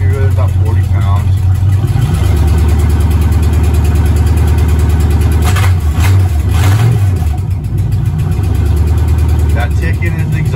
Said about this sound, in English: That ticking is the exhaust.